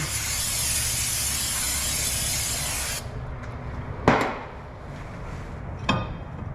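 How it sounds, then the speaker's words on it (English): Non-chlorinated brake cleaner sprays from an aerosol can onto the front brakes of a Honda Civic: a loud, steady hiss for about three seconds, then quieter rustling with two sharp knocks. "we'll go ahead and spray this down again"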